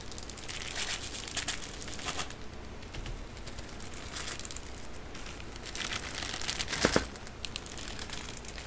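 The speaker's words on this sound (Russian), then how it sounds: "Так, начинаем вскрывать еще один пакетик." A small plastic packet from a no-name pair of earphones being torn and pulled open, giving close, steady crinkling and crackling with a few sharper rips, with no voices.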